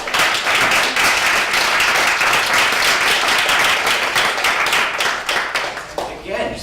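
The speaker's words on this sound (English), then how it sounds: "can we get a nice round of applause?" An audience at a talk on nutrition and exercise breaks into loud, dense applause, many hands clapping close by in a steady wash that holds for several seconds before thinning out at the end.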